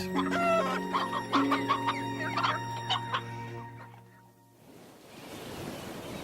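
Chickens cluck and cackle close by for a few seconds, then give way to a soft wash of ocean surf.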